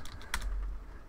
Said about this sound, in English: Been typing so horribly, so I'm going to cheat.